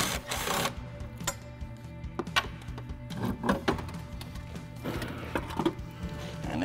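Top strut mount nuts being unbolted on a Mitsubishi Lancer Evolution X during removal of its original factory Bilstein front struts: a run of close metallic clicks and rattling tool sounds over a steady low hum, no talking.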